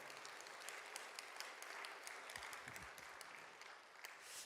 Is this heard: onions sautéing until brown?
no